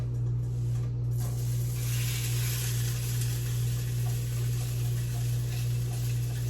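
Sausages frying in oil in a cast iron pan, a steady loud sizzle with a constant hum underneath, no talking.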